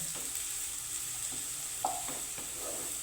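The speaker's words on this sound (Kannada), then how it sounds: "ಮಲ್ಲ ಟೊಮೆಟೊ ಒಂಜಿ ಹಾಕೊಂಡು ಒಂಚೂರು ಫ್ರೈ ಆಡು" A tomato fries gently in a pan, a soft faint sizzle with a few light stirring scrapes, quiet and close.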